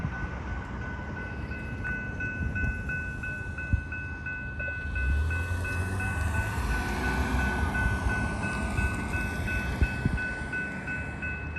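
A heavy-load freight train on a rail line beside a motel in Sharonville, Ohio rumbles past steadily at a distance, with low rolling noise and a faint sustained tone.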